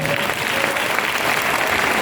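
Dense, steady applause from an audience welcoming speakers at a direct-selling event in Lucknow, a continuous wash of many hands clapping at even loudness for the whole stretch.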